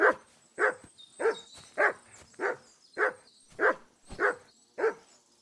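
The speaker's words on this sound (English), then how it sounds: "Dog, could you please shut up?" A dog in the video game Kingdom Come: Deliverance II barks repeatedly at a steady pace, nine loud, distinct barks spaced about half a second apart, close by with faint tonal game ambience behind.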